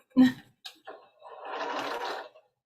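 A sewing machine runs in one short burst of about a second, preceded by a few brief knocks and handling sounds, for a pumpkin sewing project.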